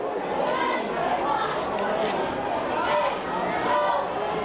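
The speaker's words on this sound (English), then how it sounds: "Really a nice crowd here. I guess you'd expect it to be for this rival game." A steady wash of crowd chatter fills the stands at a high school football rivalry game between Central Kitsap and Olympic, with many voices blending into a continuous murmur.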